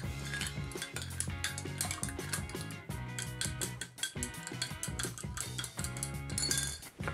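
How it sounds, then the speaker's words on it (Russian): Alcoholic cocktail ingredients stirred with ice in a glass, a bar spoon scraping and clinking ice against the sides in quick repeated strokes, close and fairly quiet, with no voice. "Слегка перемешаем наши алкогольные ингредиенты, чтобы они сбалансировались и стали одним целым."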